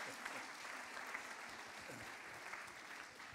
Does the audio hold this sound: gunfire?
no